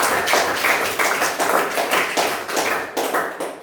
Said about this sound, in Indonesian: kita kasih tepuk tangan dulu buat kelompok auditori